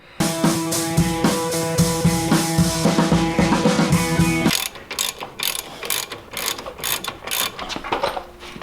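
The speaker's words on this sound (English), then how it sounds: "So the next step in this adventure is we're going to take the caliper off." A ratchet works on the brake caliper of a 2009 Dodge Cummins 2500: first a loud, continuous buzzing whir of fast clicks, then a slower run of separate, evenly spaced ratcheting clicks, close up with no talk.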